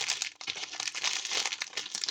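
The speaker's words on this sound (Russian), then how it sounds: "И последний пакетик с мелкими детальками." Plastic packet of small toy parts crinkling close up in steady, rustling bursts with brief crackly pauses, no talking.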